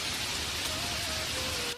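Heavy rain pours steadily during a night storm over a village in an animated cartoon, a dense continuous hiss with no voices heard.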